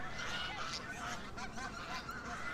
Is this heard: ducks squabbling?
yes